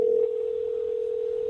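A telephone dial tone while calling someone: a steady, continuous pure tone heard close and alone, briefly louder at the very start.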